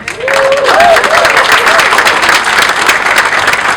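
A large, loud crowd claps steadily at a polo match International Day at Windsor as a woman walks up, with dense nearby applause throughout and a brief voice at the start.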